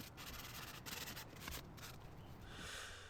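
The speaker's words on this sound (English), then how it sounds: "I'm using my little palm hand mouse sander that just takes normal sanding discs that any orbital sander will use" A small palm mouse sander with an orbital-style sanding disc works along wooden edges, giving a faint, steady raspy whir that pulses slightly as it moves, with no talking.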